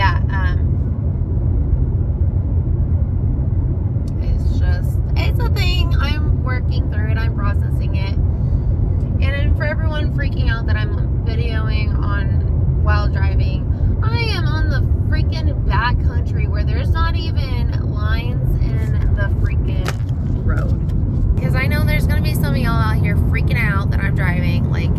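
Inside a car driving on an empty, unlit road, a steady loud low rumble of tyres and engine fills the cabin throughout while someone talks continuously over it.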